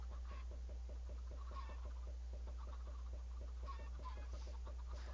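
Chickens in the Minecraft video game cluck in a rapid, regular, repeating pattern over a steady low hum, with no speech.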